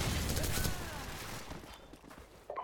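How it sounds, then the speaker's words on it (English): Covering gunfire in a Modern Warfare video game: a dense burst of rapid shots up front that fades into echoing tails and scattered clatter, with one more short crack near the end. "Give me some covering fire."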